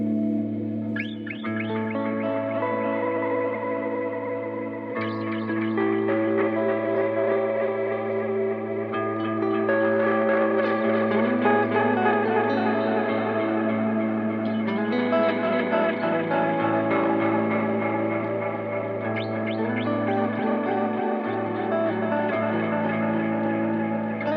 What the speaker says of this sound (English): not only the tape delay, but it also has this really dreamy lo-fi reverb added into it